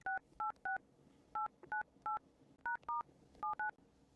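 Telephone keypad tones beep as a number is dialed, about a dozen short two-pitch DTMF tones in uneven bursts of two or three, clear and close with no talk.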